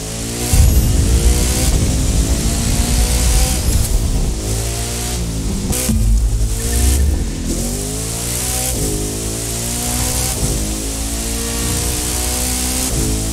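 Koenigsegg Jesko hypercar in The Crew 2 racing game, engine and exhaust droning loudly and steadily with rising and falling revs throughout, alone with no talk.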